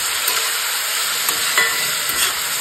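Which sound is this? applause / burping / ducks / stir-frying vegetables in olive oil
stir-frying vegetables in olive oil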